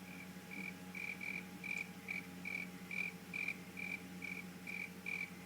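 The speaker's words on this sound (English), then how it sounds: "there is the sound of crickets chirping" Crickets chirp in an RPG Maker VX video game, in a steady, evenly spaced rhythm over a quiet low hum, soft and continuous with no talking.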